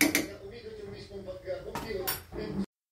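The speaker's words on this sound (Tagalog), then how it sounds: "haluin lang po natin yan" A spoon clinks and scrapes against a pot while kare-kare is stirred, giving a few sharp metallic knocks and rattles near the close, with a voice talking underneath.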